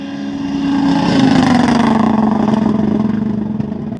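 Rally car at the Rallye Côte Fleurie 2024 braking hard, its engine a loud, steady drone that sinks slowly in pitch over a few seconds, with no voices.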